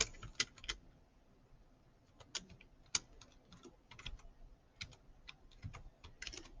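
Rapid typing on a computer keyboard while entering a graph into Desmos, with irregular clusters of sharp key clicks and a few louder strikes, close and fairly quiet, with no voices.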